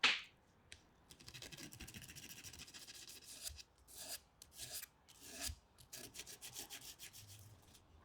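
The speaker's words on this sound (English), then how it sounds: "the whole thing still needs sanding, which isn't going to be a quick task either" Steady, uneven rasping and rubbing of sandpaper over a hand-carved wooden lamp base, close by, in repeated strokes with brief pauses and no voices.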